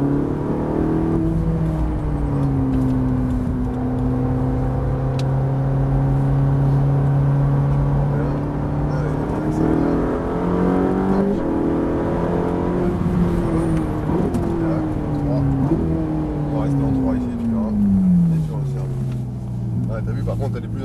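A Ferrari 458 accelerating, its engine a loud, continuous drone whose pitch climbs and drops through several rev sweeps and shifts, with a voice talking over it.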